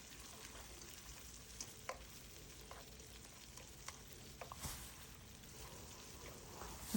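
Marinated chicken sautéing in a pan for chowmein, a steady soft sizzle and frying crackle with occasional stirring scrapes, moderately quiet and continuous, no voices.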